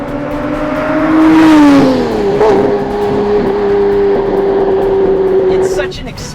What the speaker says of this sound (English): The howl from that engine and this gated shifter is like shaking hands with an old friend.